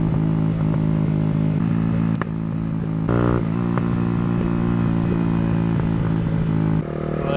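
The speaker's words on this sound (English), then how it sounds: "Let's see if I can make my bike backfire as much as possible." Motorcycle engine on a rough, bumpy road, held at a loud steady drone close by with sudden revs and sharp popping backfires.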